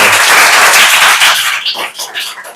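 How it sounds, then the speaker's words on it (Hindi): Schoolchildren clapping loudly together in a classroom, a dense burst of applause that thins out and trails into scattered claps near the end. "जोरदार ताली बजाइए"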